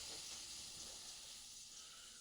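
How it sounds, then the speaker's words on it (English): Butter sizzles steadily in a hot pan while steak is being cooked, a soft continuous hiss that stays fairly even throughout. "this butter's coming down. Okay? It's already sizzling."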